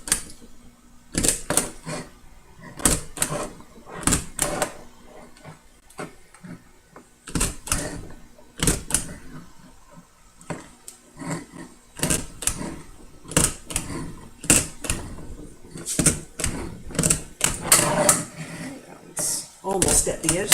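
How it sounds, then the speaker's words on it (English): A stapler fastens watercolour paper to a board edge, making sharp, loud clacks spaced irregularly with short pauses between them, along with faint handling noise. "I want to staple all edges of the board and the paper as close to the edge as I can get"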